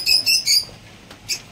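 Pet birds bred as new colour mutations in an aviary give a few sharp, high squawking calls in quick succession, close by, then a pause and one more call.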